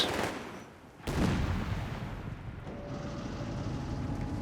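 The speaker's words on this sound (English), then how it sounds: "Tank grenade followed by a regular grenade." A sharp explosion from a grenade in the Company of Heroes 3 video game, followed by rumbling battle noise and distant gunfire, fairly faint and with no talk.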